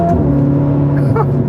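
McLaren 720S GTR on sticky Toyo R888 tires pulling hard in rolling fourth gear, a loud, steady engine roar close up throughout with a brief rising whine near the end.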